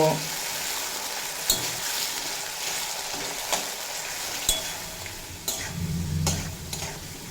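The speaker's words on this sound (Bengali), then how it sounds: "মিডিয়াম ফ্লেমে রেখে দুই থেকে তিন মিনিট মতো ভেজে নেব" Small cut potatoes fry in a pan on a medium flame with a steady, close sizzle. Occasional sharp clacks of stirring and a brief louder surge near the end break through it.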